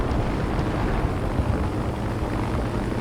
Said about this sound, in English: I could also hear a twin-engine aircraft